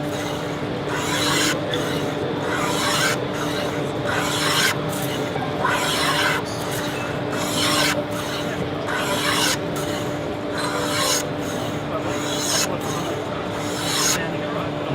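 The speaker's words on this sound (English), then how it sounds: "We just keep planing until those two mouldings come together." A hand plane shaves a timber moulding in long, steady, repeated rasping strokes, each pass a loud close scrape with brief pauses between, roughly one stroke per second throughout.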